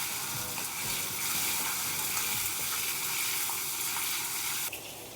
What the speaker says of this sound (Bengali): টমেটো একটু ভালো করে ভেজে নিচ্ছি